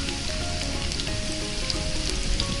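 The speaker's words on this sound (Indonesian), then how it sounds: "Kita goreng sampai menguning sedikit ya, dan harumnya keluar." Onions and spring onions sizzle and crackle in a hot oiled pan while frying for Korean kimchi fried rice, a steady, dense frying hiss that is close and even throughout, with no voices.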